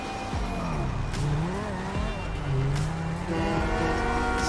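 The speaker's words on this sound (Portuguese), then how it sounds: "Vamos pegar uma rodovia aqui e tentar andar em alta velocidade aqui com o carro" A car in GTA V races at high speed along a highway, its engine revving and shifting pitch up and down with brief tire squeals, steady and fairly loud throughout.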